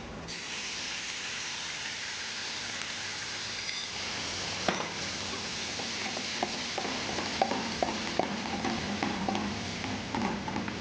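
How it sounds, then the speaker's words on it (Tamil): Mushroom broth added to garlic frying in a pan and stirred, a steady close hiss and sizzle joined midway by scattered scraping and clicking strokes from the stirring. "மஷ்ரூம் பிராத் சேர்த்தாச்சு"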